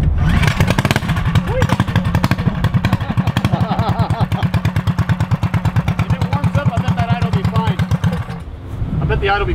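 Race car engine with an aggressive, lumpy camshaft idling loud and close, a choppy uneven lope pulsing steadily before cutting off near the end, with voices audible over it.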